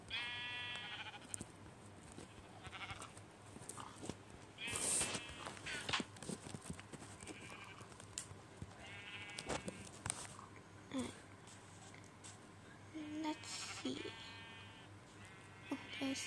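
Sheep in a crafting and building video game bleat in short, repeated digital calls scattered through the stretch, with clip-clop steps and other game sounds and a person talking over them.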